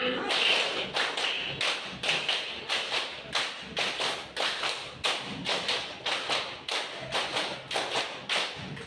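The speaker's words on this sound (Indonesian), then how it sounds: "Sekarang tepuk lima kali lima." A class of students claps in unison in a five-by-five counted pattern, groups of quick sharp hand claps repeating steadily with short pauses between sets, close and clear in a classroom.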